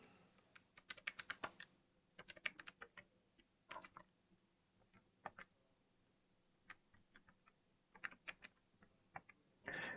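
Fingers tapping numbers into a calculator during a maths lesson: quiet, irregular clusters of crisp key clicks with short gaps between them.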